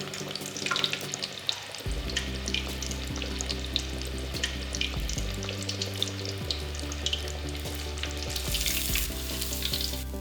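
A wagyu beef cutlet deep-fries in oil with a fine, continuous crackling sizzle, quiet and close, with low humming tones underneath and a brief brighter burst of frying near the end.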